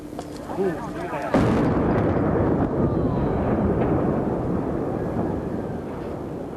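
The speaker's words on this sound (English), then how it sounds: "That detonation process just taking a couple of seconds, bringing some 520 tons of concrete and cement down to the limestone berms beneath." Demolition detonation bringing down a cracked section of Milwaukee's Hoan Bridge, dropping some 520 tons of concrete onto limestone berms: a sharp blast followed by a sustained, loud rumbling roar of collapsing concrete, heard from a distance.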